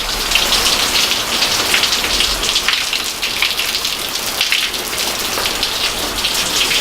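Steady rain falls outdoors by a backyard grill, a dense, even hiss of drops striking surfaces that stays loud and unbroken throughout, with no voices.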